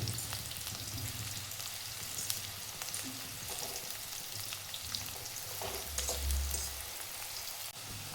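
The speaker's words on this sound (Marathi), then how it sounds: "तेलामध्ये भाजून घ्यायचे. पाच मिनिट भाजून घ्यायचे, जास्त वेळ नाही." Bitter gourd fries in oil, a dense, steady sizzle and crackle that runs close and continuous throughout, with a few faint stirring clatters and a low hum underneath.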